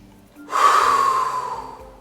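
A single deep, breathy inhalation during a yoga pose, rising quickly and sustained for over a second before easing off, close and clear with no talking.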